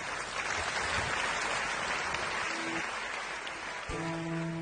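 An audience at an evening tribute event applauds a music group with steady, dense clapping like heavy rain, and sustained musical tones enter near the end.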